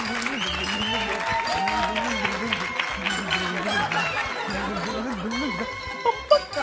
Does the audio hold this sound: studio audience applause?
yes